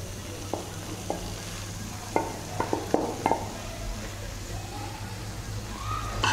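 Cooked rice being stirred into a tomato mixture in a pan for tomato rice, with soft scraping strokes and a few sharper clinks of the spoon against the pan over a low steady hum.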